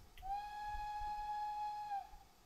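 A steam locomotive whistle in the Train Simulator game, set on the Myatt's Valley Railway, gives one clear sustained toot of about two seconds, fairly loud and alone over quiet background.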